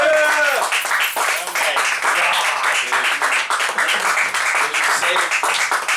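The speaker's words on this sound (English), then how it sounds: "Give him a round of applause." An audience applauds a multi-instrumentalist storyteller at a live show, with dense, sustained clapping at close range that continues steadily while someone speaks over it.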